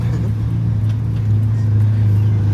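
A big Detroit Diesel 8V92TA turbo engine in a Wanderlodge bus idles with a deep, steady rumble, swelling slightly louder partway through, close by with no talking.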